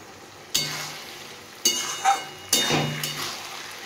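Moringa leaf paste fries in a pan while being stirred, the scraping strokes coming in three distinct bursts with a soft sizzle beneath, close and fairly loud, no voices.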